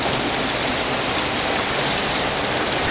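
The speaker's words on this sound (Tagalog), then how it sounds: "Ang lakas-lakas ng ulan dito guys" Heavy rain pours down in a dense, steady hiss, loud and unbroken throughout, with no voices.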